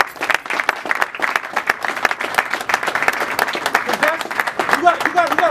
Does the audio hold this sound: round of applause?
yes